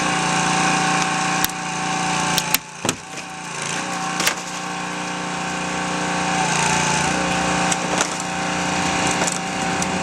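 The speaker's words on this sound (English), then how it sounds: "our next step now is to cut the top of the B-post and swing it all out" A hydraulic rescue tool cutting through the top of a car's B-post during side wall removal, a loud steady mechanical drone with sharp cracks and crunches of metal giving way, up close.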